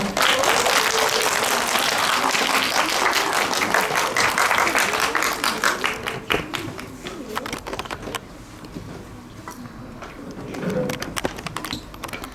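Dense, steady applause from a school fair audience welcoming the next third-grade student speaker, loud for about six seconds before thinning into scattered, fading claps.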